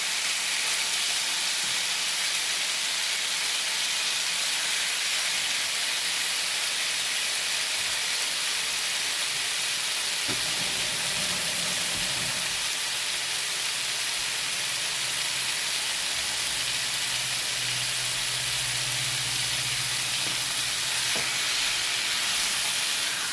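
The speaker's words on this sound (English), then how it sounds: "myself, I love frying meat" Beef and liver frying in olive oil in a pan, a loud, constant hissing sizzle that holds steady throughout, with faint low clatter from the pan partway through.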